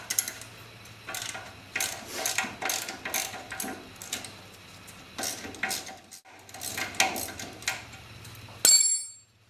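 A socket wrench ratchets out the bolt of a rear ATV shock, giving close metallic clicking runs and clanks in several bursts over a low steady hum, ending in a brief louder clatter.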